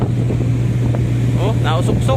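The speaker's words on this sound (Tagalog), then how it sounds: "Lakas ng hangin." Strong typhoon wind buffets the microphone at sea, a loud constant roar and rumble, with someone speaking briefly over it.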